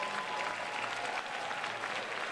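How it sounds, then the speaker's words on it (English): Seniors at an auditorium event applaud steadily, a dense, even wash of many hands clapping that holds at a constant level throughout, with no voices standing out. "Give yourselves a big round of applause."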